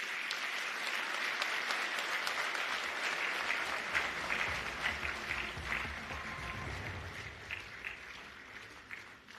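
Warm, sustained round of applause from a conference audience at the Afreximbank Annual Meetings, greeting Nigeria's Central Bank Governor; dense steady clapping lasting throughout, fairly distant and even, with no talking over it.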